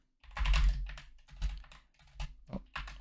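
Typing on a computer keyboard: a close run of quick clustered key clacks in several bursts with brief pauses between them, crisp and alone.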